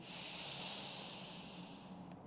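A single long, deep breath drawn during a Pilates posture exercise for the back and chest, a soft, airy hiss held steady and close before fading out.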